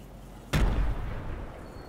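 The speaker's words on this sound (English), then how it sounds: "Hold on, I'm going to throw a grenade." A grenade explodes in the video game Fortnite as a single sudden loud boom, followed by a rumbling decay over steady background noise.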